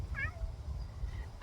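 A pet cat named Tootsie gives a single short, rising-and-falling meow early on, fairly faint and close in a quiet room, followed by low background hum.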